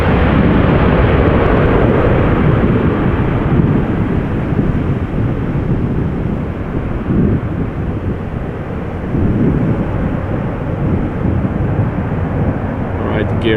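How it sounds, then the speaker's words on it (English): An 11-year-old Airbus A330, first flown in February 2012, taking off and climbing with gear retracting at Amsterdam Schiphol: a loud, steady, broad jet engine roar with wind buffeting, continuous throughout, someone talking over it. "It is going up, as is the airplane."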